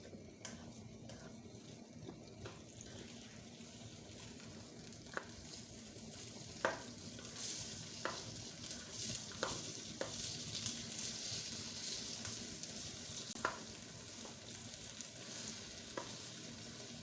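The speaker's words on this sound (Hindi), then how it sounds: "अब इसमें अदरक लहसुन और ये टमाटर मैं डाल देती हूँ। इसको भून लेंगे" Ginger, garlic and tomatoes fry over a raised flame for chicken karahi, a soft continuous sizzle broken by sharp spoon clicks against the pan at irregular moments, with no voices.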